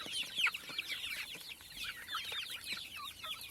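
Chickens peck at grated carrots, clucking and chirping continuously close by in a busy, overlapping chatter with no voices.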